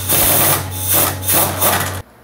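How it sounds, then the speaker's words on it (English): An air impact gun works the leaf spring nuts on a Club Car golf cart, a close, buzzing rattle in several pulsing bursts over two seconds before cutting off sharply. "or you can use an air gun"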